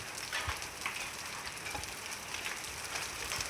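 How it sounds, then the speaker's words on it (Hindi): Steady patter of rain with scattered sharper knocks of large hailstones striking a surface in a Rajasthan village, continuous and fairly close, with no voices. "हमारे घर में पहले दिन बारिश में कड़े पड़ रहे बड़े बड़े।"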